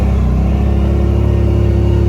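A CFMOTO ZForce 950 side-by-side with an aftermarket exhaust and tuner box holds a loud, steady, deep engine drone close by. It gets a slight rev midway, with no talking.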